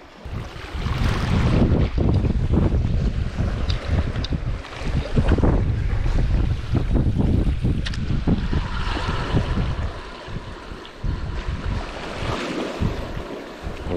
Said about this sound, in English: The wind's howling.